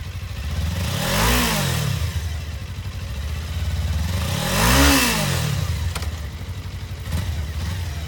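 A used 2018 Suzuki GSX250R lightweight sport motorcycle idling steadily, its small engine revved twice in smooth rising-and-falling blips, moderately close with no talk.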